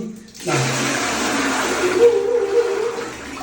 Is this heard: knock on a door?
no